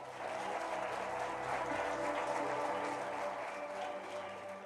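A church congregation applauds during a worship celebration service, a continuous wash of clapping at moderate distance that stays even for several seconds before easing slightly at the end.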